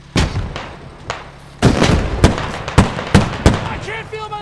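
Gunfire in the military shooter Squad: sharp, loud shots crack out one by one at uneven intervals, close by, with voices talking between and over them.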